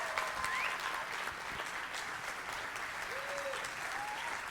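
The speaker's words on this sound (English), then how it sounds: "Everybody give them a big round of applause as they come to the stage." Steady applause from a church audience as eight seniors and their families walk to the stage, a dense, continuous clapping that holds at an even level throughout without pause.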